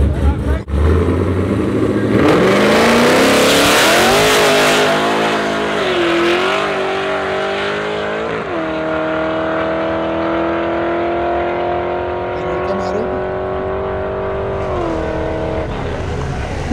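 A Chevrolet Camaro race car accelerates hard at a track, its engine rising through rising and falling gear-change pitches in a loud, sustained roar, while spectators talk nearby.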